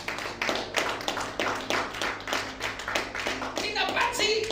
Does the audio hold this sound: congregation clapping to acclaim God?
yes